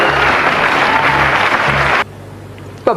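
A television quiz-show studio audience breaks into loud, dense applause that cuts off abruptly after about two seconds, leaving a quieter background before a brief sound at the end.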